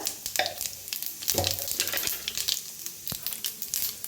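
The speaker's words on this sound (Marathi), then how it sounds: "आपलं मोहरीचं तेल आहे म्हणताना चांगलं गरम करून घेतलेलं आहे। त्याच्यात टाकूया मोहरी" Mustard seeds and cumin sizzle in hot mustard oil, a soft crackling hiss broken by irregular pops and brief stirring scrapes, fairly quiet and close.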